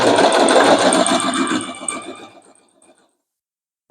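A sewing machine stitching fabric for a homemade blind on a very small stitch setting: a steady, fast whirring run up close that slows and fades out, then silence.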